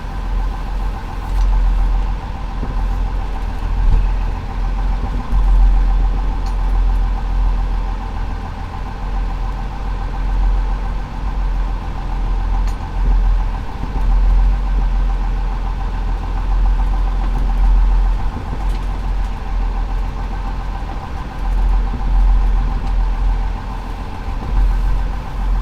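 A 310 horsepower marine diesel engine running aboard a commercial salmon fishing boat in Alaska, a loud, steady low rumble with a constant droning hum throughout.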